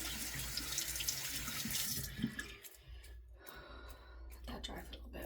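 Tap water runs steadily into a sink as hands are rinsed up close, then the flow shifts and cuts back, leaving a softer trickle and some faint breathing.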